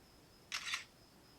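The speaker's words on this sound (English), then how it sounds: "You take a picture, it has that shutter sound." A single crisp camera shutter click plays from a DOOGEE T20S tablet, a short double-snap effect heard alone against a faint steady hiss.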